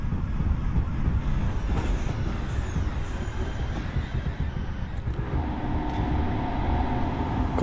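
The Kalka Mail rumbles along in Indian Train Simulator on a night run, with ICF coaches rolling over the rails in a steady loud roar and a faint squeal, continuous and close without speech.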